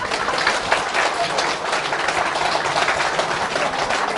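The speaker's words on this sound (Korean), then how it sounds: "박수!" Sustained applause from an audience at a political lecture, a dense steady clatter of many hands clapping, fairly loud and close, with no break for the whole stretch.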